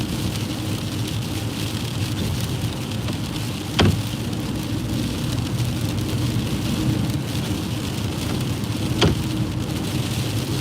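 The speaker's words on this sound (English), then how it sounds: "It's just raining like sheets and dogs." Heavy rain pours steadily around a car on the road, a dense constant wash with two sharp clicks or knocks cutting through it; no talking.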